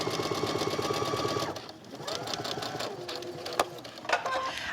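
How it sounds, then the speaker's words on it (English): A sewing machine stitches around the last corner of a pillow, its steady rapid whir stopping briefly for a pivot and then resuming at a slower pace, close and clear. "When I sew to this last corner,"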